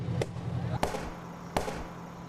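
Full cans explode in a burning mobile meth lab fire, heard as two or three sharp, distant bangs over a steady low roar.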